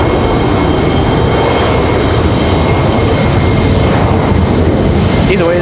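An Air France airliner lands at Raleigh-Durham International, a loud, continuous engine rumble holding steady with no talk over it.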